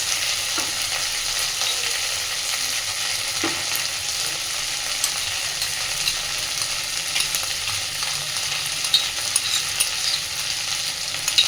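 Potatoes, onions, green chilies and crushed garlic fry in a pan with a steady, dense sizzle that runs unbroken throughout, with a few faint stirring clicks and no voices.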